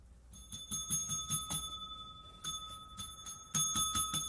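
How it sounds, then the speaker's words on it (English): Shop counter bell in a fix-it shop rung in quick bright bursts, three clusters of sharp metallic dings with ringing tones between, fairly faint and close, with no talking. "The bell works fine."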